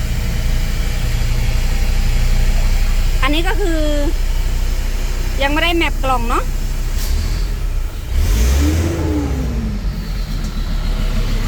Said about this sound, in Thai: เดี๋ยวมาฟังเสียงเครื่องค่ะ